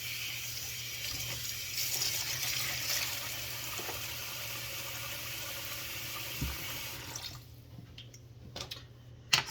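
Tap water runs steadily into a kitchen sink to wet a dish towel, then stops, followed by a few drips and a sharp clatter.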